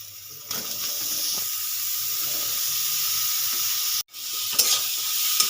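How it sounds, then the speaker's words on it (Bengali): Grated pointed gourd fries with spices in a pan, giving a steady, close sizzle with soft scraping stirs and a brief break near the end before the frying noise returns. "এবার আমি পটলটা ভালো করে কষিয়ে নেব"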